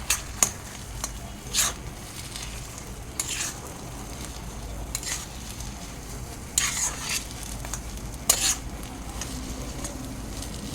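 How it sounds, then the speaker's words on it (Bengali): Crushed kasuri methi being stirred into a potato filling in a pan: intermittent spoon scrapes and knocks over a soft, steady sizzle, close by, with no talking. "এবার এটাকে ভালো করে মিশিয়ে নেবো আলুর সাথে।"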